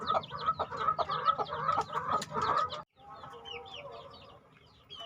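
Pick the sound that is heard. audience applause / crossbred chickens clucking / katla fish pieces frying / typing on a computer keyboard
crossbred chickens clucking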